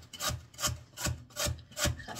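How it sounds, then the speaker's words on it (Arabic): Beetroot being grated by hand for a salad: a steady rhythm of about six rasping strokes, each a rough scraping burst with short gaps between them, close and clear, with no talking. "بغيت نحك شوية الباربة نحك الباربة باش نديرها فوق الشلاضة"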